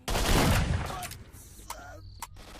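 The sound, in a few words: gunfire in S.T.A.L.K.E.R. Shadow of Chernobyl video game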